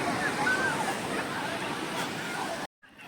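Sea waves wash steadily onto the shore, a broad continuous surf noise with faint voices of people nearby, cutting out abruptly near the end.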